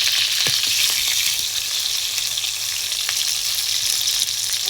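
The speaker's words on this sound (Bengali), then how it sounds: "পটল ভালো করে ভেজে নেব।" Pieces of peeled pointed gourd (potol) frying in hot oil in a wok, a steady close sizzle with faint stirring clicks, continuous and alone without any talk.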